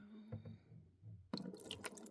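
Quiet drips and small splashes of water from a working toy sink in a kids' play kitchen, faint at first, then a busier patter of droplets and trickling near the end.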